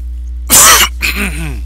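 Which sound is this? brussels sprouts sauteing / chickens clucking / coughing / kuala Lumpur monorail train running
coughing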